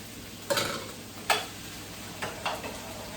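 Cut cabbage is added to a pan of sizzling vegetables and frankfurters, giving a steady frying hiss broken by four soft scraping stirs spaced roughly a second apart.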